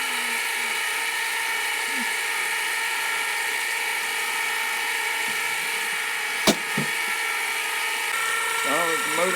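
An electric ice cream maker's motor churns with a steady mechanical hum and faint ratcheting, a sharp click near the end, and soft voices in the background.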